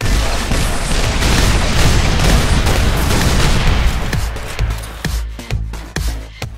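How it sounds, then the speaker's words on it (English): Heavy, continuous barrage of explosive plasma-bolt blasts from a Covenant concussion rifle in Halo Reach, loud and dense at first, then thinning into separate booming impacts with brief gaps near the end. "The concussion rifle is a Covenant infantry weapon that fires explosive plasma bolts"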